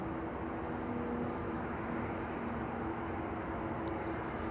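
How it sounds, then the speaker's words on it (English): A KLM Embraer 175 airliner flies over at about 7,000 feet near Amsterdam Schiphol, heard as a steady, distant, broadband jet roar that holds level throughout. "And that's a KLM Embraer. Embraer 175, judging by the size and angle of the winglets."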